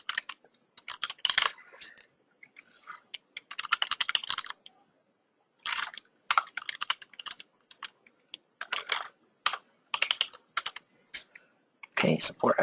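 Fast bursts of keystrokes on a computer keyboard as registration details are entered into an event signup form, coming in clustered runs separated by short pauses, close and clear with no talking.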